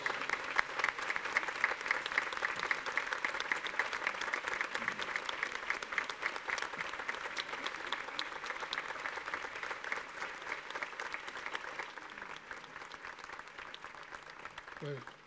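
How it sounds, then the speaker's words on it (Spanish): Crowd applauding at a religious celebration honoring the Virgen de Candelaria, steady dense clapping sustained throughout, gradually thinning toward the end, with voices faintly mixed underneath. "De nuevo nuestro aplauso afectuoso."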